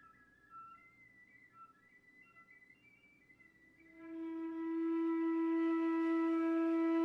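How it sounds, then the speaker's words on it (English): A flute plays soft, wavering high whistle tones, thin and breathy at first, then a steady, louder sustained tone takes over and holds to the end. "I just went back to whistle tones"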